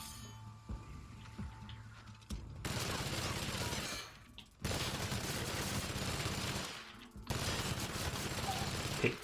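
A minigun fires in The Outer Worlds in three long, loud, continuous bursts of rapid gunfire, separated by brief pauses.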